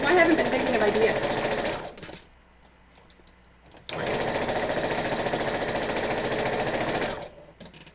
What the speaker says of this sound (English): the sound of the running sewing machine